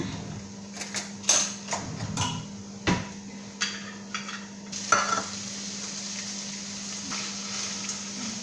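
Tuna frying in a pan makes an uneven sizzle, broken by sharp clinks and scrapes of a utensil against the pan at irregular moments, close by.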